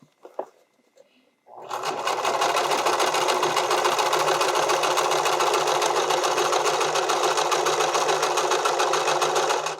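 A sewing machine stitches an invisible zipper onto stretch fabric, starting after a short pause with a few soft handling noises, then running in one continuous fast whirring buzz until the end.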